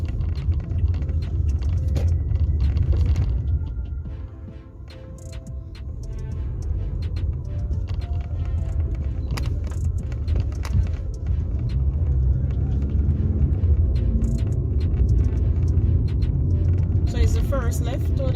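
A car drives along a residential road in Sunnyside, Spanish Town, St Catherine, with steady low engine and road rumble throughout while people talk inside the vehicle.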